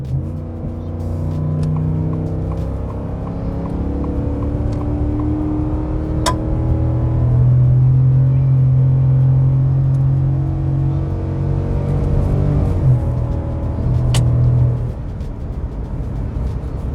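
Ford F-150 pickup with a 5.0L Coyote V8 at full throttle while towing a trailer, a rising engine drone with harmonics climbing steadily through the gears, loud and sustained, with a short shift break near the end.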